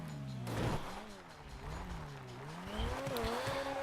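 A Carbonizzare race car in Grand Theft Auto brakes hard during a racing session, its engine note dropping and wavering through downshifts, with a brief tire squeal, all fairly quiet.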